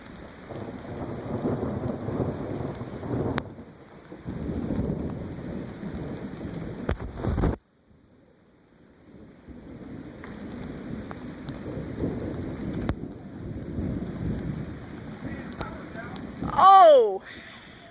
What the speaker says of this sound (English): This is a storm.